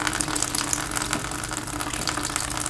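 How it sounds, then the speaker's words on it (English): Water from an opened tap on a home plumbing system gushes and splashes steadily into a bucket, a continuous close pouring rush with no pauses. "You'll see the water is dropping into a bucket there."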